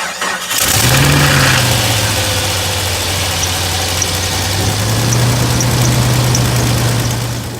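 A Jeep 4.0L engine cranks briefly and catches, then settles into a loud, steady idle that hums on evenly, rising slightly in pitch midway through.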